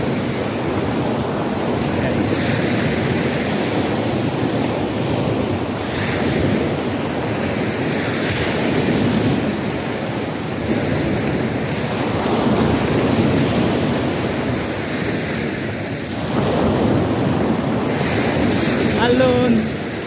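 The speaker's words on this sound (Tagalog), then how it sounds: "Alon." Sea waves break and wash continuously against a rocky shore on the Mindoro coast, with rough surf and gusts of wind buffeting the microphone, loud and close throughout.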